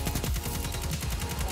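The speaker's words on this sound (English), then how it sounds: "Everyone's scared of my insane auto rifle." Rapid auto rifle fire in a video game, a dense continuous stream of shots with steady rhythmic pulses, loud and close with no talk over it.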